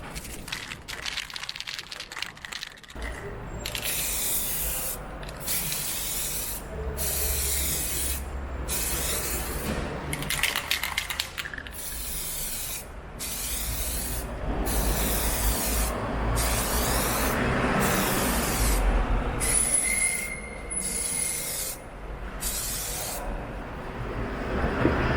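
Aerosol spray can laying a light dusting of sparkling silver paint onto a BMW engine cover, a steady close hiss in repeated passes with short pauses between bursts over about twenty-five seconds.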